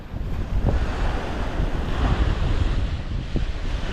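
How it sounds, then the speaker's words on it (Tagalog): Big ocean waves surge and crash continuously under strong wind buffeting the microphone, a dense, roaring wash of surf close by along a coast near a volcano. "Ang lalaki ng alon."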